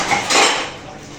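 Pots, dishes and cutlery clatter and scrape loudly and close by during dishwashing, a continuous jumble of metallic knocks with no talking.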